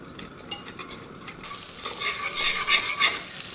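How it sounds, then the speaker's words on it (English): Butter melting in a pot for a white sauce, a soft sizzle rising over a few seconds with light stirring and utensil clinks, close and moderately quiet. "and melt the butter."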